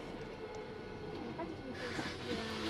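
A metro train in motion gives a steady, rumbling ride with a constant hiss and faint rail rattle, heard from inside the carriage at low level.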